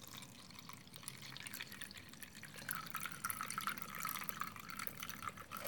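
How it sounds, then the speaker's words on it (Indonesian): Water, white and cloudy from a first rinse, is poured into a container, giving a soft, steady splashing trickle that grows a little louder midway, with no talking. "Kita tuang airnya ke dalam wadah."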